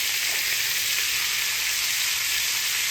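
Sliced potatoes and onions frying in oil in a pan, giving a steady, dense, even sizzle heard close up with no talking.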